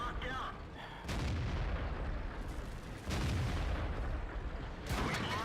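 In a tank battle video game, heavy tank cannon shots boom out in sharp bursts, several loud blasts spaced across the clip with rumbling decay between them.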